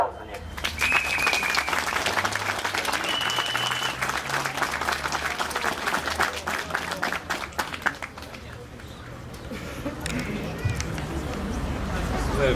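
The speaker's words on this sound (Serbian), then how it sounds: "molim vas za jedan veliki aplauz za njih" Sustained audience applause fills a crowded room at a group gathering, dense clapping from many hands with crowd noise beneath, fading slightly toward the end.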